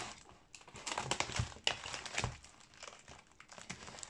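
Plastic packaging from an AliExpress diamond painting kit crinkles and crumples as it is opened, a close, quiet series of rustles and small tearing sounds.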